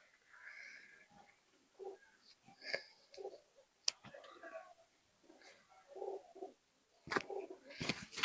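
Young Teddy pigeons coo softly in short, breathy bursts, close and quiet, mixed with light clicks and rustling, while a person whispers or murmurs nearby.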